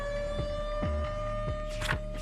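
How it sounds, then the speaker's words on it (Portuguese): Tornado warning siren wailing with a steady tone, layered over low rumbling and scattered clatter, moderately loud and heard without any talking. "os moradores também são alertados por sirenes quando um tornado se aproxima"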